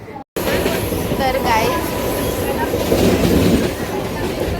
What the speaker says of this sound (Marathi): इथे आम्ही ट्रेनमध्ये चढलेलो आहोत